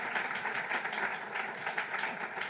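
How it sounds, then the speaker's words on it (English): An audience claps for Nancy O'Brien at a talk, a dense, even patter of many hands at moderate distance, lasting a few seconds. "So please just give Nancy a round of applause."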